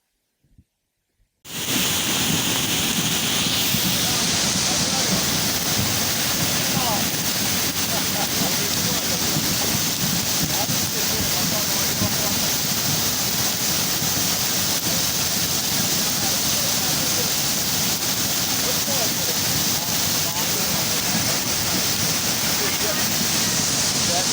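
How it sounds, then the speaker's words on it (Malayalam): The Chokkadan river, flooded and overflowing its banks after heavy rain, roars as a loud, dense and unbroken rush of water that starts abruptly after a brief silence and continues steadily. "കനത്ത മഴയിൽ ചോക്കാടൻ പുഴയിൽ മഴവെള്ളപ്പാച്ചിൽ"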